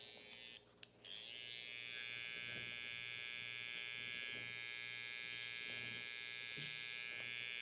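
A Suprent Pro electric hair trimmer runs with a steady, high-pitched motor buzz after a brief stutter at the start, close up and continuous, with no voices.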